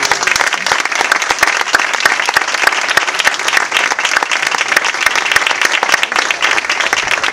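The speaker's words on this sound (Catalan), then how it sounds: "fem un aplaudiment general" A room full of people applauds steadily and loudly, dense clapping sustained throughout without pause.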